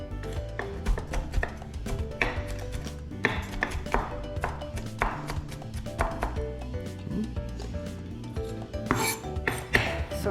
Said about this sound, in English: while I finish chopping the rest of my vegetables